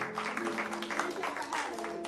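Audience applause for firefighter Linda Lockhart at a gathering: a brief, steady patter of many hands clapping at moderate volume, with voices mixed in underneath.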